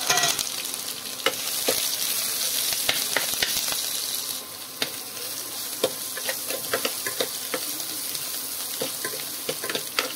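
Mustard seeds and dried chillies spluttering in hot oil make a steady close sizzle dotted with sharp irregular pops and crackles throughout, with no voices.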